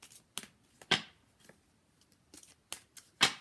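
Divination cards are shuffled and handled in a quiet room: a soft, irregular run of crisp flicks and riffles, faint and close, with no voice over them.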